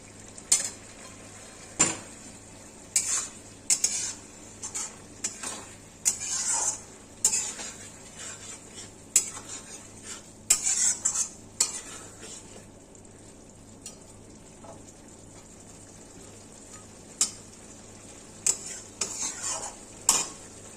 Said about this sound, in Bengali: এবার আমি মাছগুলো ছেড়ে দিচ্ছি।